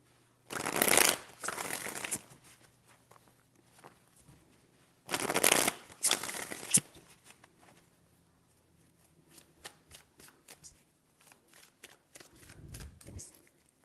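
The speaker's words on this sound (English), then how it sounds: "Three shuffles." A deck of tarot cards is shuffled in several quick riffling bursts, fairly close and crisp, separated by softer handling sounds and short pauses.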